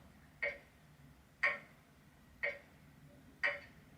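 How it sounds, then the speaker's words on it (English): Clock ticking from a Roffie white noise machine: four crisp, evenly spaced ticks about one second apart, moderately quiet against a soft background hum. "This is the sound of a clock."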